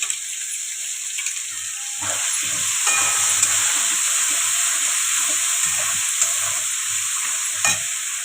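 Potatoes and onion frying in a pan with garlic and ginger paste, a steady loud sizzle and hiss throughout with intermittent stirring scrapes, close up and without talk.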